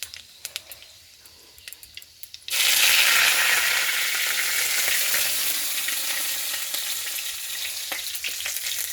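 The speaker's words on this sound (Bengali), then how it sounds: "কালো জিরে আর একটু ফোড়ন দিয়েছি।" Black cumin seeds dropped into hot oil for tempering: after a few quiet clicks, a sudden loud burst of sizzling and spitting that keeps crackling close by and slowly settles.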